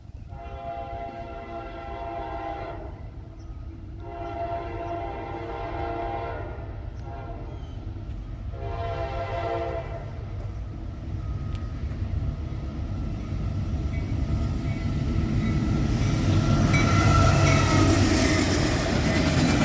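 A Norfolk Southern westbound freight train rumbles past a station with a long, loud horn blaring in repeated blasts, then the rolling rail noise swells and builds as the cars pass.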